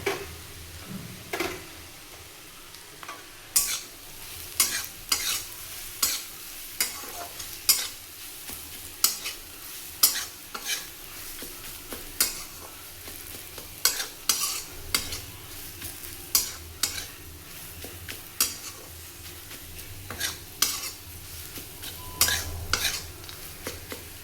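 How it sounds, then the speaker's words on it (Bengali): Grated coconut is fried in a pan after lentil dumplings, giving a soft continuous sizzle under frequent sharp spatula scrapes and taps spread irregularly through a long stretch. "নারকেল কোড়াটা দিলাম নারকেলটা একটু ভেজে নেবেন"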